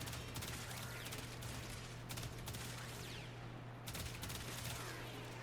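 A Tiberon Prime rifle in Warframe fires in rapid repeated bursts, sharp cracking volleys clustered together with short gaps, quiet overall over a steady low hum.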